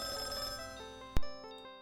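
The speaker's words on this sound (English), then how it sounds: "You hear the quiet ringing of it." A steady ringing tone from a light in the 1993 computer game Companions of Xanth, a sustained bell-like hum that ends in a sharp strike followed by a fading ring, fairly quiet with no talking.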